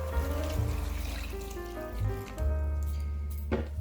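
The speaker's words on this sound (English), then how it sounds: "All I'll do is I'll just introduce water to it." Water poured into a pot of cow skin and meat cooking for Cameroonian eru and fufu, a steady rushing pour with sizzling underneath for about four seconds, close and fairly loud.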